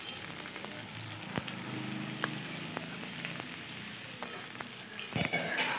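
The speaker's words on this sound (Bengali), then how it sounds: "কুমড়ো, গাজর, ফুলকপি, আলু সবই। এগুলো ভালোভাবে একটু ভেজে নিতে হবে।" Pumpkin, carrot, cauliflower and potato pieces frying together for a mixed vegetable dish, a quiet steady sizzle with occasional utensil taps and stirring clicks, no voices.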